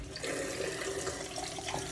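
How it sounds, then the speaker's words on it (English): Cold water running from a bathroom tap during a shave, a steady close hiss and splash that continues without pause. "So, turn the cold water on."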